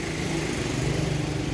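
A Kipor KDE6500T silent diesel generator runs at a steady drone, a continuous low engine hum with a faint rapid pulse, close and even throughout.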